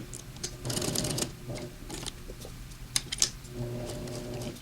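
A sewing machine stitches a snowman applique onto a Christmas apron, running in short bursts with brief pauses, punctuated by a few sharp clicks and taps.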